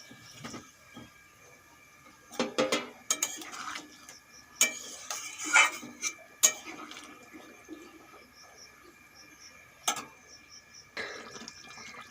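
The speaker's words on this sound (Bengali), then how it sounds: "ঝোল ভালোভাবে ফুটে গেছে এখন ভেজে রাখা ডিম আর আলু দিয়ে দেবো" Fried duck eggs and potatoes go into a simmering coconut milk curry, with a few soft splashes, clinks and stirring scrapes scattered across an otherwise quiet pot.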